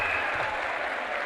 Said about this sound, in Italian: Guadagnati di nuovo questo applauso bellissimo che è partito dalla platea.